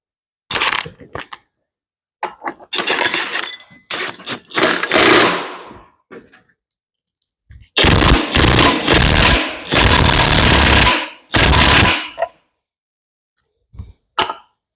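Bolts on a 7000 axle being tightened with a power impact tool, firing in a series of loud rattling bursts separated by short pauses, close by and with no talking.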